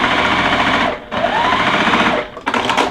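A sewing machine whirs loudly and close, stitching a seam on a handbag in three steady runs separated by brief stops.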